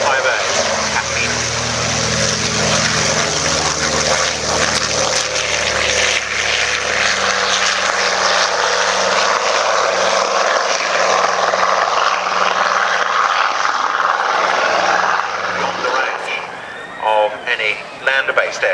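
A PBY-5A Catalina flying boat drones past at an airshow at RNAS Culdrose with a loud, steady propeller-engine roar that fades toward the end, while an announcer speaks over it.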